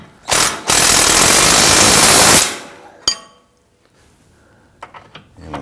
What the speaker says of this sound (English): With the suspension compressed, we're going to go ahead and just snug down these bolts.